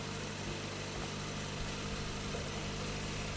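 A Toyota Avensis 1.8 engine idles with a steady, even hum and low rumble, no voices, holding constant throughout.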